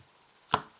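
A tarot deck is cut in two with one short, crisp snap of cards, heard close up against an otherwise quiet background.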